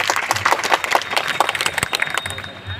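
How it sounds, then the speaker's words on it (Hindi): An audience at a Diwali greeting event in Sangam Vihar claps and applauds energetically to welcome a speaker, a dense burst of hand claps from a nearby crowd. "जोरदार तालियां बजा के स्वागत करें।"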